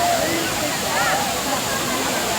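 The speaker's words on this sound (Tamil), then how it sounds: "ஃபஸ்ட்டு காந்தலூரில் போனது இந்த அருவி." A waterfall in Kanthalur roars as a steady, loud broadband rush of falling water, with faint voices heard over it.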